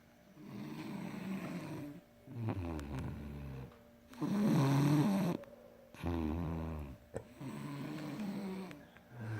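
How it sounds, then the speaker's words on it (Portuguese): A person snores softly at close range in a slow, regular cycle: rough, rattling inhaled snores roughly every two seconds, separated by short quiet pauses, with no talking. "tá gravado seu ronco"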